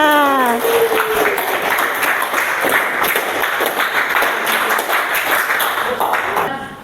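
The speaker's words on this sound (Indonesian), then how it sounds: "Tepuk tangan untuk kalian semuanya." Students in a classroom applaud together, a dense, steady clatter of clapping from many hands lasting several seconds, with a brief voice at the start and end.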